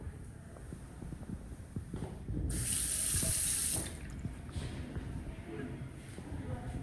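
Tap water runs into a hand-washing sink in a steady stream that swells louder for about a second midway, with a voice talking over it.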